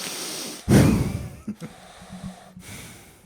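A person imitates heavy breathing with one loud, close, forceful snorting exhale, followed by a few quieter huffing breaths.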